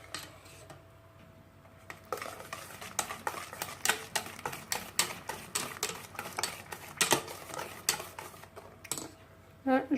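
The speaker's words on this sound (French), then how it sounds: "je continue à mélanger correctement" Chocolate fondant cake batter being stirred in a bowl, with a steady run of close, irregular clicks and light scraping as the utensil knocks the bowl's sides.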